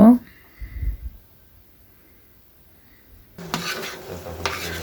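Prawns stirred into fried masala in a pan: a brief clatter at the start, a near-silent stretch, then a scraping, sizzling stir rising for the last second and a half.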